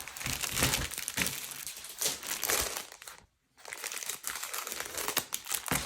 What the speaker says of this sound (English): I got a nail art sticker book, and I'm going to open it.